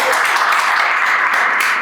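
A church congregation at a Sunday service claps loudly and steadily, a dense, sustained wash of applause filling the hall.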